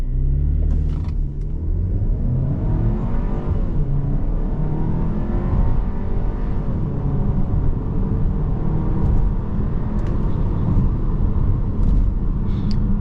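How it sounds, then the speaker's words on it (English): A 2024 Volkswagen Tiguan engine accelerates hard from 0 to 60, a loud, steady low rumble from inside the cabin that climbs through the gears over about thirteen seconds, with no talking. "we're gonna do a quick 0 to 60"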